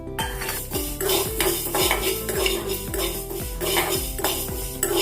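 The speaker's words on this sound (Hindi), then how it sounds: "थोड़ी सी मेथी भी भून लेंगे।" Fenugreek seeds dry-roasted in a pan for mango pickle, stirred with a metal spoon that scrapes and clinks against the pan in a quick regular rhythm, close and clear, with no speech.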